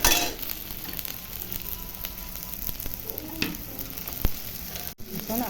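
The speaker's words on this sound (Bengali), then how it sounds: "পেঁয়াজগুলো এখন লাল লাল করে ভাজে নেব।" Onions and chopped tomatoes fry in a pan for chicken do-pyaza, a dense continuous sizzle with a few sharp clinks and stirring knocks, heard close with nobody talking.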